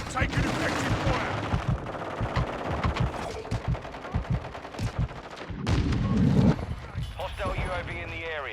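Steady automatic gunfire in a Call of Duty battle, repeated rhythmic shots loud and close, mixed with shouted voices and a thicker swell of fire near the end.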